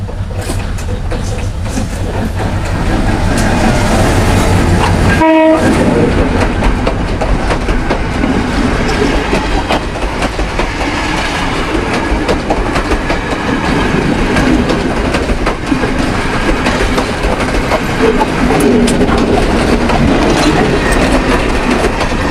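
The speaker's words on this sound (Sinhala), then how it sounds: "ඔන්න එනවා කෝච්චි" A train pulls into Ihakotte station, its steady rumble and rhythmic wheel clatter filling the scene close by, with a brief horn-like tonal blast early on and no talking.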